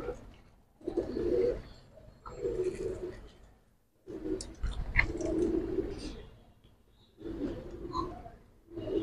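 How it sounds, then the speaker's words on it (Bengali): Giribaz high-flyer pigeons coo in a loft in repeated throaty bursts with short pauses between them. The sound is close and fairly loud, and there is no talk over it. "একটা অনেক শক্তিশালী কবুতর।"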